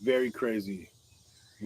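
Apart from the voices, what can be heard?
No everyday noises stand out.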